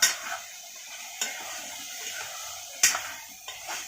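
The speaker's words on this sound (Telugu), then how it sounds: "బాగా కలపాలండి." Mutton kheema stirred and mixed in a frying pan: intermittent scraping and clinking of a spoon against the pan over a faint sizzle, quiet and close, with no talk.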